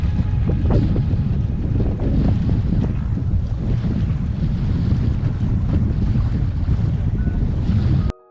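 Sailboat pounding through choppy slop in Vineyard Sound in a winter gale with current against the wind, a loud, constant low rumble of wind buffeting and water rushing close by, with no voices.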